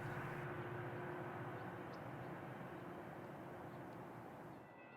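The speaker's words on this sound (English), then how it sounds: "Train 858 headed northward late in the day." Metrolink train 858 rolls northbound on the Olive Subdivision between Atwood and Orange, a distant, faint, steady rumble with a sustained engine drone that slowly fades away.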